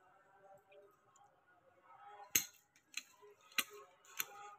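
Hand pruning shears cut through the branches of a potted pomegranate plant during hard pruning, giving four sharp, separate snips over a quiet background with faint low murmuring.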